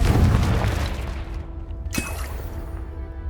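A Confringo blasting curse from Hogwarts Legacy, heard as a sharp explosive crack over a low rumbling game background, followed by a fading tail with a faint ringing tone.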